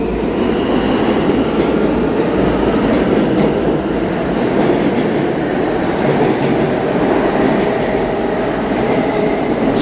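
Subway train running through a tunnel, with a loud, steady rumble and rattling wheels that continue without a break.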